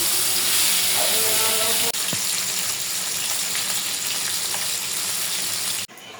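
Hilsa fish frying in oil for kajir bhat, a constant close sizzle and crackle with brief clicks and a sharp knock near the end.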